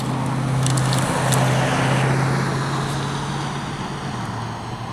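A 2014 Triumph Thunderbird 1600cc motorcycle with a six-speed transmission, being ridden, heard as a steady engine drone under heavy wind and road rush.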